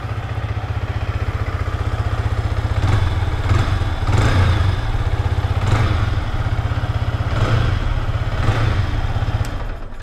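A 2023 Yamaha R15 V3 155cc liquid-cooled sport motorcycle engine idles with a steady throb, rising in several repeated revs that swell and fall, close and loud, with no talking.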